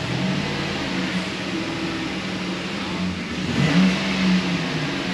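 Steady idle from a 2007 GMC Sierra's 5.3-liter V8 with its catalytic converter cut off and a misfire fault, rising into a short rev toward the end, heard alone.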